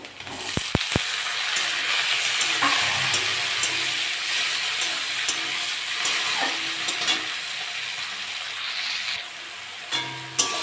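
Tomatoes fry with onions and whole cumin in an oily pan, a steady close sizzle broken by a few quick utensil taps at the start and occasional stirring scrapes.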